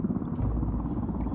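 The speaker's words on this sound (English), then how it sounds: "At least it comes with a chopper." A helicopter in the video game Ghost Recon Wildlands makes a brief, steady, low rotor and engine rumble that stays close and constant, with no talk.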